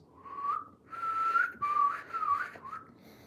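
A person whistles a clear, wavering tune in several short phrases with brief gaps between them, close and fairly quiet, with no talk over it.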